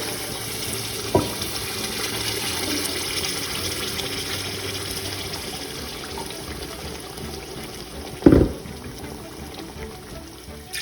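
Water poured into a cooking pot for beef yakhni pulao, a broad steady wash of liquid running for several seconds, with two sharp knocks of a container against the pot standing out near.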